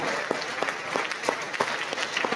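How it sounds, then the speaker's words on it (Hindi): Loud audience applause at a Hindi-language motivational seminar, a continuous roar of many clapping hands with sharper rhythmic claps standing out at a steady pulse. "एक बार अपने लिए जोरदार तालियां।"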